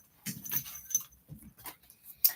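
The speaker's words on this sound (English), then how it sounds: "That's my dog." Pet dog making a few soft, short whimpers and yips in a quiet room, scattered bursts spread across a couple of seconds, with a faint jingle near the end.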